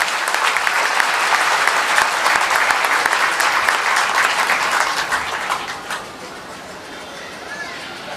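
An audience at a political speech in India applauds, a loud, dense burst of clapping that runs for several seconds before thinning out and fading toward the end.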